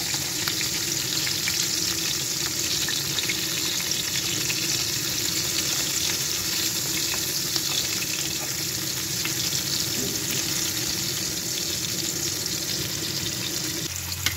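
Hilsa fish frying lightly in a pan, a steady dense sizzle with spattering crackle running close and unbroken throughout, no voices over it.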